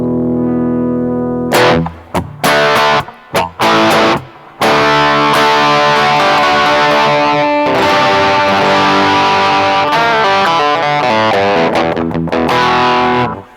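Electric guitar through an EHX Metal Muff Pocket distortion pedal, heavily distorted chords and riffs played loud and close, with a few brief stops near the start before sustained playing.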